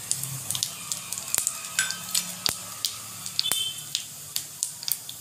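Cumin and mustard seeds crackle and sizzle in two spoons of hot oil for a cluster bean thecha, with a steady frying hiss broken by sharp, irregular pops and spatters close by.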